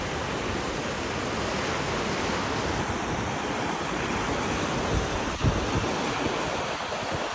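Steady sea surf washes onto a beach at Lebedivka, a continuous broad rushing roar of waves with soft wind noise and a brief thump midway, no voices.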